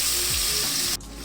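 Chicken karahi with whisked yogurt sizzles steadily in a wok, a loud continuous frying hiss that cuts off abruptly near the end, leaving a quieter simmer.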